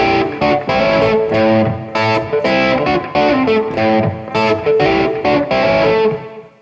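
Distorted electric guitar plays a driving blues-rock rhythm riff across two combined measures. It is loud and chugging, with repeated chord stabs and short single-note fills in a steady groove, played alone.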